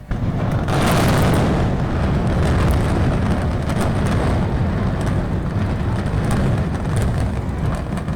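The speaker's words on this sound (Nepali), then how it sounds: "यी दुवै भवनलाई 3700 किलोग्राम विस्फोटक पदार्थ पड्काएर 9 सेकेन्डकै अवधिमा ध्वस्त बनाइयो" Explosive demolition of two high-rise towers brought down with 3,700 kg of explosives, heard as a continuous loud rumbling roar that stays dense and sustained for the full eight seconds, with no voices.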